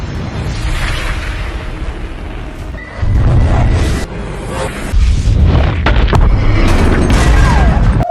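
A K4 submarine-launched nuclear missile fired from the submarine INS Arihant, heard as a loud, continuous roaring rush with heavy low rumble that surges stronger around three and five seconds, sustained to the end without speech.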